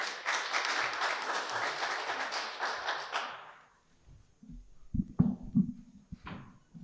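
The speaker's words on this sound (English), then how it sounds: "Let's give a round of applause, please." A conference audience at a talk on AI and the UN Sustainable Development Goals gives a full round of applause that fades out after about three seconds, followed by scattered knocks and taps.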